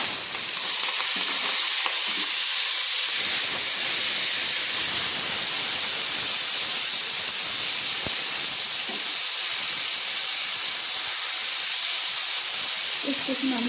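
Shrimp coated with salt and turmeric fry in hot oil, a loud steady hiss of spattering sizzle that runs unbroken for about fourteen seconds with faint clinks, no speech.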